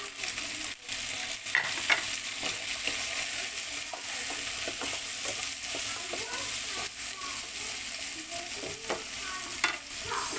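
Tomato frying in a pan for a Filipino salmon and shrimp sinigang stew, a steady broadband sizzle with scattered stirring clicks and scrapes throughout, fairly close and even in level, no voices.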